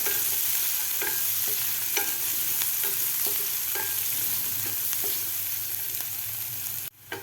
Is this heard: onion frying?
yes